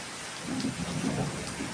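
Heavy Konkan monsoon rain pours steadily, a dense hiss at moderate level with no distinct thunderclap standing out during the short stretch.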